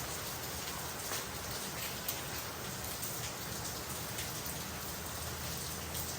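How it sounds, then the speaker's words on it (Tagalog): Heavy rain pours down in a steady, dense hiss, with scattered drops pattering on nearby surfaces. It is continuous and even throughout. "Lakas ng ulan."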